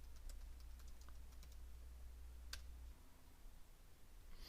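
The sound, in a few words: typing a command on a computer keyboard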